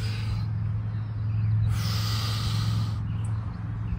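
A man doing a beginner yoga twist lets out a long, forceful breath that swells into a loud, close rush of air, over a steady low background hum.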